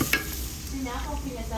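Onions frying in a pan for a samosa filling of ground beef, a steady close sizzle with stirring and a brief clatter near the start, no talk.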